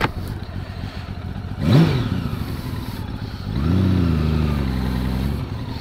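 A Honda Valkyrie motorcycle with a six-cylinder boxer engine idles and rumbles, then blips the throttle in a brief rising rev before settling into a steady, louder low drone, heard up close without talk.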